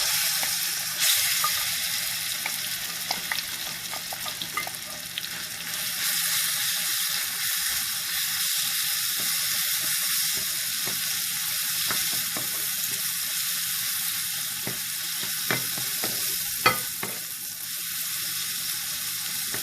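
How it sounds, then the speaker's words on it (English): Chopped ripe banana pieces sizzle and fry steadily in hot ghee, a continuous close crackling hiss with scattered sharper pops throughout and no talking. "So this banana I am going to add in this ghee."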